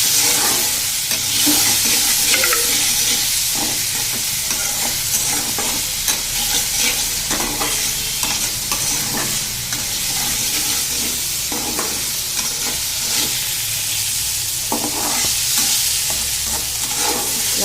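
Ridge gourd and moong dal being stirred in hot oil with asafoetida in a pan, a dense, steady sizzle and hiss with repeated scraping strokes of the spoon, close and loud throughout, no speech.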